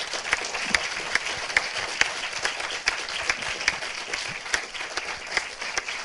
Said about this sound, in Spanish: queremos agradecerle su participación en Escenarios 2011 con un fuerte aplauso